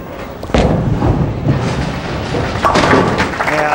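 A bowling ball crashes into the pins at a televised championship match, a sharp thud at the half-second mark followed by rattling pin scatter, with crowd and commentary noise beneath.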